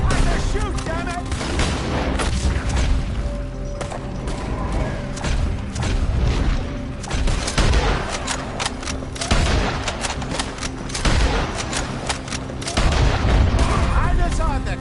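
A shootout in Red Dead Redemption 2 brings repeated loud gunshots in bursts and volleys, booming reports and thuds throughout, with voices shouting among the gunfire.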